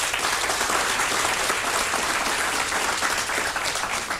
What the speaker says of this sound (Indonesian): Tepuk tangan buat bersama.